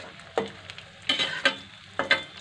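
Veg manchurian cooks over a medium flame as a spoon stirs it, bringing several quick scraping bursts over a gentle background sizzle, close and fairly quiet, with no voices.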